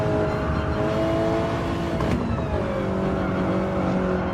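A Gr.4 race car engine in a racing video game drones at high revs, its pitch sliding and shifting as it accelerates, steady and fairly loud with no talking.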